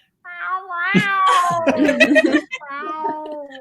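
A person mimics a cat crying at a door, drawing out wavering meow-like wails in two stretches separated by a short break, close and clear.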